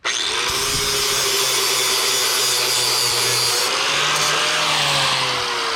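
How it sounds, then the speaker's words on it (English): Power tool grinding wheel centers flat while sectioning wheels, a loud continuous abrasive whine with steady tone shifts for the whole stretch, no speech. "One more thing I want to do today is grind these flat and clean up this center spot"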